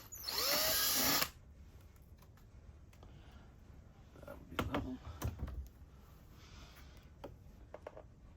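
A power drill whirs loudly for about a second in a quiet indoor space, followed by scattered faint clicks and handling knocks.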